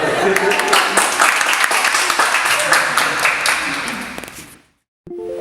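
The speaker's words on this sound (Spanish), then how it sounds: "Un aplauso." A university audience at the Potencia UIDE talk applauds loudly with dense, steady clapping for about four and a half seconds, then it cuts off abruptly, followed by a brief murmur of voices.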